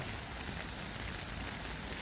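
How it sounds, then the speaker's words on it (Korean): Rain falls outdoors on a March holiday in Korea, making a dense, even hiss of drops hitting surfaces. The sound is steady and unbroken, with no voices. "비가 오니 참 아쉽습니다."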